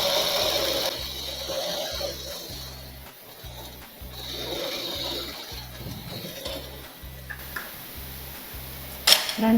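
A sewing machine runs in short repeated bursts while stitching a princess petticoat (chemise), with brief pauses between runs of stitches, close and fairly loud, ending with a sharp click.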